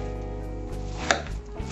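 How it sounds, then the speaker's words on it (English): Knife chopping kiwi into small pieces on a board for a fruit salad, a few dull thuds over a steady low background hum, close by. "Chop it up in small pieces so it will circulate throughout"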